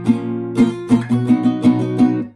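An acoustic guitar strums the chord progression of a song in a steady rhythm of accented strokes, close and clear, with no voices.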